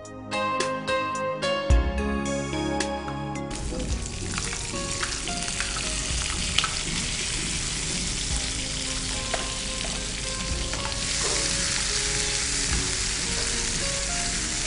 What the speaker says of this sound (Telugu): గార్లిక్ లైట్ బ్రౌన్ కలర్ వచ్చిన తర్వాత మనం క్యాప్సికమ్ యాడ్ చేసుకున్నాం, అలాగే టొమాటో యాడ్ చేసుకున్నాం.